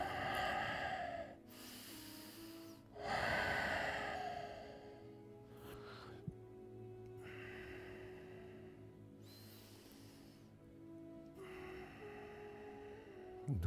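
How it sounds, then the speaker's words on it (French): Deep breathing during a yoga session: slow, loud inhales and exhales recur in a regular rhythm close to the listener, with quiet pauses between breaths over a faint low hum. "Respirez. Prenez beaucoup d'oxygène."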